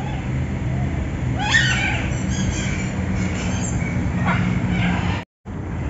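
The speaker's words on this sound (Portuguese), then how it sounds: "casal do pavão azul." Blue peafowl calling in a park woodland, a couple of loud wailing cries with rising sweeps, set against constant background noise, fairly close, followed by a brief dropout.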